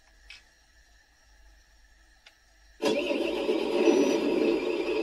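Quiet hum with a couple of faint clicks, then a CROSS RC XC6 MAN 6x6 radio-controlled truck's sound module abruptly fires up a simulated engine start, settling into a loud, rumbling idle that continues to the end.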